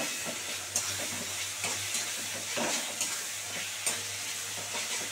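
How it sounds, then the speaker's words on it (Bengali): Spice masala with tomato fries in oil, a soft continuous sizzle punctuated by regular scraping strokes of a spoon stirring the pan, no speech. "দারুণ করে মশলাটাকে কষাতে হবে"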